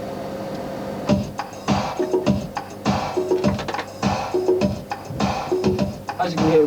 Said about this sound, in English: So we're now running at 102 BPM and the percussion sounds something like this.